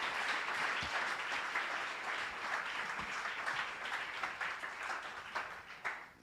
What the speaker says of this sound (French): Tu peux acclamer plus fort.